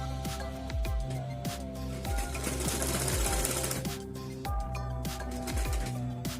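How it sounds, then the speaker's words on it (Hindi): An electric sewing machine runs stitches on blouse fabric while a boat-neck back is sewn, giving a steady mechanical whirring rattle in repeated bursts with brief stops between runs, close and loud, with no speech. "अब हम यहाँ पे एक सिलाई डालेंगे।"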